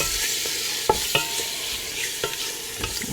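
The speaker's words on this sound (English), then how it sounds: "then you stir that a little bit" A spoon stirs ground pepper through a simmering lamb stew, with a steady bubbling sizzle and a few soft clinks and scrapes against the pot, close and fairly quiet with no talking.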